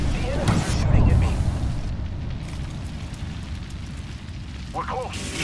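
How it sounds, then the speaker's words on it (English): A thermite grenade burning in Apex Legends, a steady rushing roar with crackling bursts, a stronger flare near the start and small pops later. "Throwing thermite grenade."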